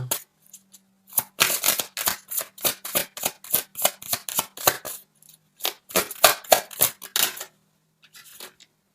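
Tarot cards shuffled and handled in quick bursts of sharp riffling snaps and flicks, close and crisp, continuing for several seconds with a brief pause near the end, and no voices.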